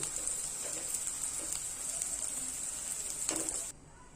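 Edible gum (dink) frying in ghee over a high flame gives a steady, close crackling sizzle with scattered pops that runs for several seconds and then abruptly cuts off.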